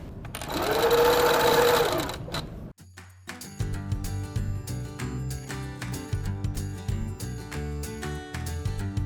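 A sewing machine runs a basting stitch through satin hexagons layered on white fabric for a ring pillow. A loud burst of motor whir is followed by quieter, regular ticking stitches.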